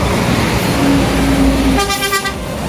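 A red Sembodo bus rumbles past up close, then sounds a loud horn toot near the end of the pass, with harmonic blares ringing over the engine noise.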